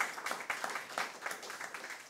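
A conference audience claps after a talk, a moderately loud wash of applause with distinct individual claps, fairly steady across the short stretch.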